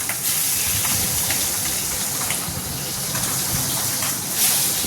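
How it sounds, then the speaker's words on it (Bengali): Three pabda fish fry in hot mustard oil in a heated wok, giving a loud, continuous gushing sizzle that holds steady from start to finish without talk. "এবার সর্ষের তেল দিয়ে দিলাম এবার মাছ ভাজবো তিনটে মাছ দিয়ে দিলাম"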